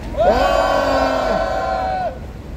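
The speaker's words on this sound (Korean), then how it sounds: "우리 모두 힘찬 격려 함성을 부탁드리겠습니다" Gathered crowd at an outdoor press conference letting out a loud unified encouraging shout that holds for about two seconds, then drops off abruptly.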